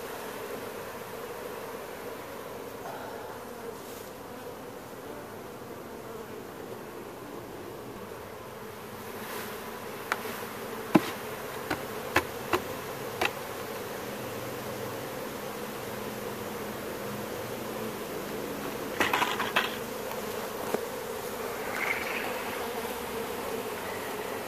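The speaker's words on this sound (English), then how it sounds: "There's a lot of bees in here, as y'all can see." A steady, continuous buzz of many honeybees fills the air inside a trailer during a hive removal, with occasional brief closer buzzes passing by amid a low background hum.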